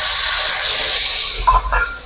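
Ginger, garlic and green chili paste with chopped tomatoes sizzles in a hot pan with a steady close hiss, and a couple of brief louder spatters come as the tomatoes go in.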